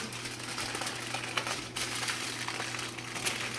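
Aluminium foil crinkling and crackling up close while seafood foil pockets are folded for shrimp and sausage, a continuous rustle with sharper crackles, no talking.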